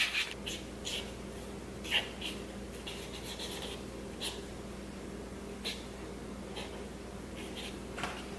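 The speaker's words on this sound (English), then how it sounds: "Then you could also use chalk markers and write on it." A chalk marker scratches and rubs across gift wrap in short, faint strokes, soft rasping taps at irregular intervals over a low steady background hum.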